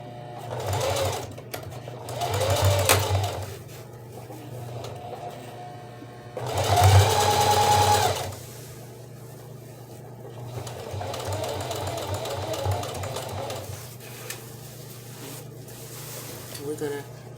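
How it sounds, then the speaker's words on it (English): Single needle sewing machine stitching stretched fabric for a pair of pants, running in several whirring bursts of a few seconds each with pauses between, close and mechanical, with some talk in the gaps. "on the single needle I'm going to sew this in, but I have to stretch it as I sew it"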